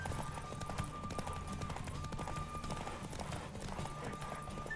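Galloping horse hooves in The Witcher 3 Next-Gen video game, a quiet, steady rapid clip-clop rhythm with a faint whinny under low game sound and no voices.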